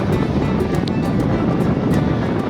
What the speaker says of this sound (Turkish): Orada dalga patlıyor.